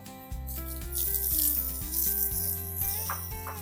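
Water runs and splashes steadily over a breeding cow standing on hard old road surface outdoors. The hiss is continuous and fairly close, with tonal music playing throughout.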